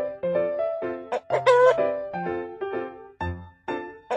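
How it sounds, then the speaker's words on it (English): A rooster crows close up in a short, clear burst, surrounded by a few quick clucking calls. "Rooster."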